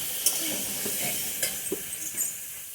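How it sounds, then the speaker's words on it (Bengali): Cauliflower sautés in a pan for a vegetarian Bengali dish, a steady close hiss of frying with occasional stirring scrapes and sharp crackles, no voices present. "মাত্র বসিয়েছি, দেখো ফুলকপিগুলো আমার খুব সুন্দর সাতলানো হয়ে গেছে"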